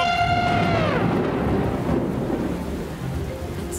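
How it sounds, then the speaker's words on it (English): Steady heavy rain with a deep rumble of thunder throughout, and a tonal trumpet-like blare fading in the first second. "It's just rain."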